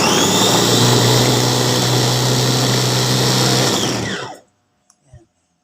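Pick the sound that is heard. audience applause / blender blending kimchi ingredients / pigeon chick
blender blending kimchi ingredients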